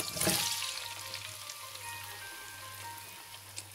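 Tomatoes for chicken curry dropped into a hot pan and frying, a quick loud hiss at the start settling into a steady soft sizzle close by.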